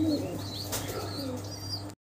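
Pigeons coo softly in a bird seller's pen, a few low murmuring calls and faint chirps close by, ending abruptly.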